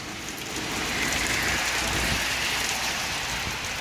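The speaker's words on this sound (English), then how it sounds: "Now it's raining" Steady heavy rain from Hurricane Dorian in Halifax, Nova Scotia, a dense, continuous hiss of falling water that stays loud and unbroken, with gusting wind mixed in.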